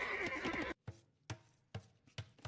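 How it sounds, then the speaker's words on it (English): A scout horse dies in the strategy game Age of Empires, a loud strained whinny followed by several sharp thudding hoof-like knocks in an uneven rhythm. "I believe that sound of a dying horse was Blue Scout"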